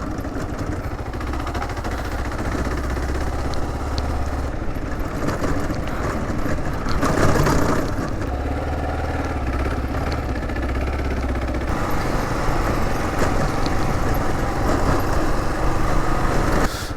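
A Kawasaki KLR650 dual-sport motorcycle rides a muddy off-road trail, its single-cylinder engine droning steadily up close and rising and falling with throttle changes throughout, with no talking.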